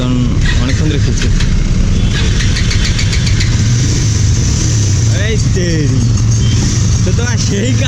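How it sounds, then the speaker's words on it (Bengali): An Apache RTR 4V motorcycle engine starts and settles into a steady, close low idle that runs throughout, with people talking nearby over it. "দেখো এবার গাড়িটা স্টার্ট দেবে"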